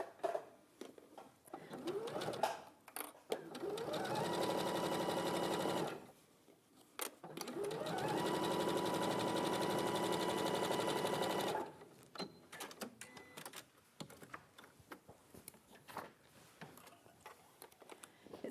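A sewing machine bastes fabric in place at the sides within the seam allowance, running in two sustained bursts of steady whirring stitching separated by a short pause, with light handling noise around them.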